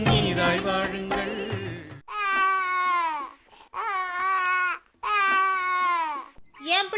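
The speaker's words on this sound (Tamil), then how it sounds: "குழந்தை அழுவுது, போய் என்னன்னு பாரு பிள்ளை." A baby crying in loud, wailing bursts, three long cries separated by short breaths, close and clear, following a stretch of music at the start.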